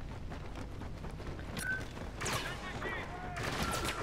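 Infantry turret gunfire in Star Wars Battlefront, faint bursts of blaster shots in a busy game battle, with a few sharper bursts toward the end.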